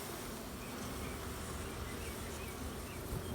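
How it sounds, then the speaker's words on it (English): Honey bees in an opened brood chamber hum as a dense, steady swarm, a faint continuous buzz with no voices over it. "Just massive amounts of bees on here."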